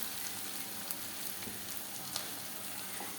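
Sliced onions browning in hot oil with asafoetida for kadhi, giving a steady, close hiss and sizzle with faint crackles and occasional stirring scrapes.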